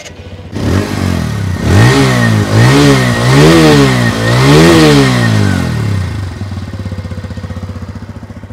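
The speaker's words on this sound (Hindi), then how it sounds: "हम सुनते हैं गाड़ी का एग्जॉस्ट नोट कैसा है" A 2023 TVS Apache 160 2V motorcycle engine revs repeatedly, loud rising and falling exhaust bursts in four or five pulls, then settles into a steady idle.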